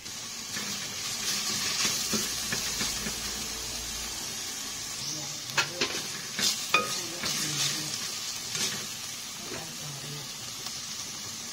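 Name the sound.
sautéing garlic, onion and ground meat in a pan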